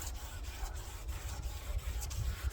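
Sandpaper is rubbed back and forth by hand on a Jeep window frame during paint prep, giving quiet, rhythmic rasping strokes at an even pace, close but faint, with no voices.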